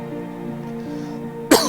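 A single short, sharp cough comes right at the end, close and loud after a quiet stretch.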